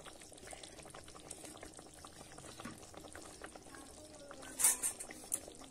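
Matar kofta curry, pea koftas in sauce, bubbling in a pan as it is gently stirred, giving a steady low simmering hiss with soft scraping from the spoon.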